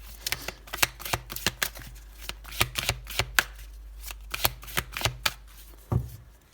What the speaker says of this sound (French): On va poser les 8 cartes.